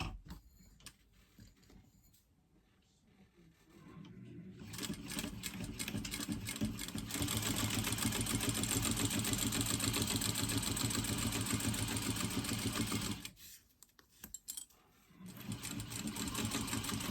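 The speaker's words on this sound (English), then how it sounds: "we are going to stitch in place using a 1/4 inch seam allowance" A sewing machine runs a quarter-inch seam on a tote bag, starting after a few seconds of quiet, whirring loud and steady for about nine seconds, pausing, then starting again.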